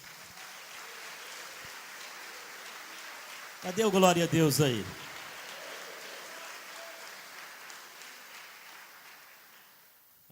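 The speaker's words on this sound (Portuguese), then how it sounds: "Vamos aplaudir a Deus?" A church congregation claps through a Santa Ceia (communion) service in a steady, fairly faint patter. Midway a voice briefly shouts over the clapping.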